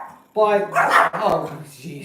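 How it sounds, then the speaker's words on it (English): A pet dog barks sharply outside in a quick burst of yips and barks, loud and close, while someone talks over it. "Sorry about that. That's my dog."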